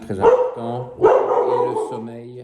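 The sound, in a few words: dog barking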